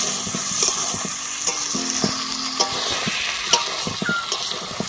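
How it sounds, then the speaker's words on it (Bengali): Chicken curry being sautéed and stirred in a pan, with the spiced meat starting to catch on the bottom. It sizzles loudly and continuously, with sharp spatula scrapes and taps coming irregularly, close up. "মাংসটা যত কষাবেন তত তরকারি টেস্ট হবে, ভালো করে কষাতে হবে নেড়ে নেড়ে"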